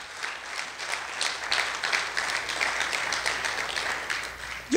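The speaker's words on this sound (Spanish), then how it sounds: "Por lo tanto, ese aplauso es para el Señor" Church congregation clapping together in a worship service, an even, continuous wash of hand claps at moderate distance, holding steady without pause.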